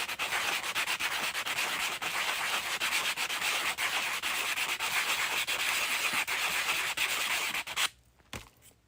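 A 3D printed plastic part is sanded by hand in steady back-and-forth strokes, a dense close rasping rub that runs continuously before stopping abruptly near the end, leaving only faint quiet.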